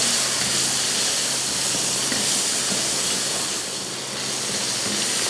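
Onions and garlic sizzle in hot oil in a pan, a steady close hiss that runs without a break.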